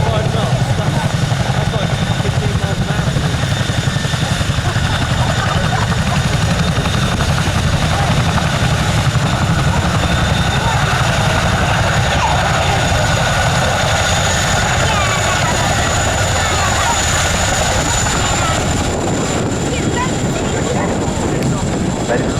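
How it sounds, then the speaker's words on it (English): An RAF Chinook helicopter flies backwards at up to 25 knots during an airshow display at RAF Cosford, its steady, loud rotor and engine roar filling the scene, with a commentator's voice over a public address system. "The crew will be working hard now as the aircraft starts to go backwards up to 25 knots."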